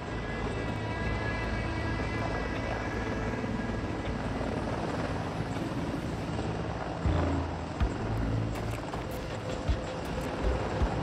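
A Mil Mi-28 Havoc attack helicopter drones steadily with a dense, rumbling rotor and engine roar, fairly loud and continuous throughout.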